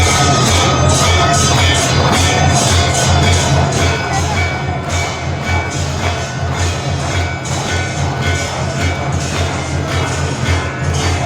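Dense, loud crowd noise fills a packed Omkareshwar temple during the evening aarti, a continuous wash of many voices with bright clanging and ringing layered throughout, steady from start to finish.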